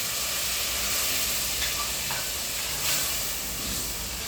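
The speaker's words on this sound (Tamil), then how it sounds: "எல்லாம் பச்சை வாசனை போகிறது வர நல்லா வதக்கணும்" Curd and ground biryani masala sauté in a hot pan for chicken biryani, giving a steady, even sizzling hiss from start to finish with a couple of faint higher clinks.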